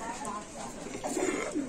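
Pigeons for sale at a market stall coo softly and continuously, close by, while people talk over them.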